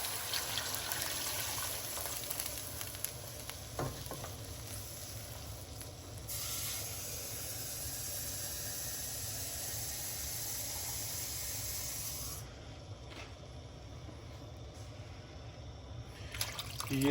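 About 1.5 to 2 litres of water poured into a pot of browned chicken for Lahori street-style chicken soup, a steady soft hissing pour that runs throughout, with brief shifts in tone near the end.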